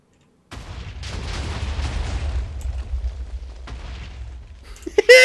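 A loud explosion in the video game Minecraft starts abruptly and rumbles with a long, low roar and crackling debris for several seconds, ending in a brief burst of other game sounds.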